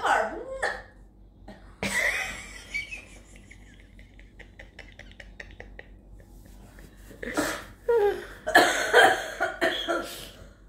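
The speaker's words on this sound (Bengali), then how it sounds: "এই যে হুপেন কাশিটা," A person with whooping cough coughs in harsh, repeated bursts that come in fits. The loudest fit near the end is mixed with other close vocal sounds.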